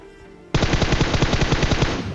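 A PUBG Mobile bot firing an automatic weapon: a loud, sustained burst of rapid evenly spaced shots starting abruptly after half a second, close and alone.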